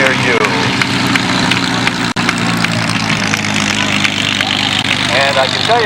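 P-51 Mustang 'Big Beautiful Doll' taxiing at an airshow, its piston engine a steady, loud rough idle with a clear harmonic drone and crowd noise mixed in.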